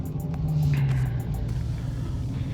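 A 2023 Dodge Challenger R/T ScatPack Swinger's exhaust rumbles steadily and fairly quietly from inside the cabin while driving, a low smooth drone without rasp that holds through the whole stretch.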